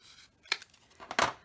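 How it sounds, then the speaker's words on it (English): A cutter slices through tea-stained journal paper in two or three short, crisp bursts separated by brief pauses, near and fairly quiet, with no speech. "I'm going to cut a little bit more off."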